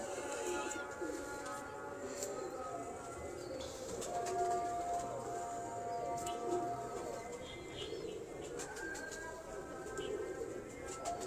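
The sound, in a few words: pigeons cooing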